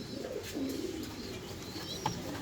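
Soft, low pigeon coos sound close by in a brief murmuring burst, with a faint chirp near the end.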